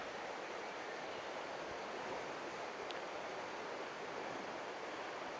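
A river flows beside a small beach with a constant, broad rushing wash of water that holds steady throughout, close and fairly loud, with no voices.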